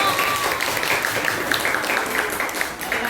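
Students in a classroom applaud together, a dense burst of many hands clapping at close range that continues evenly for a few seconds with faint voices underneath.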